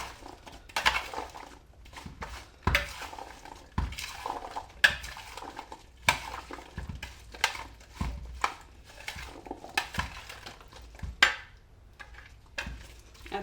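Okra being mixed by hand with salt, chili and coriander powder in a bowl, giving close, irregular clinks and scrapes of dishware with soft rustling between, no talking.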